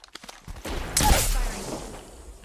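Gunfire in Apex Legends: a few sharp shots crack at the start, then a louder burst of rapid fire erupts mid-clip and rings out into a fading rumble.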